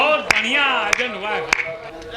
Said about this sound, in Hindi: एक बार तालियों से मुझे आदेशित करें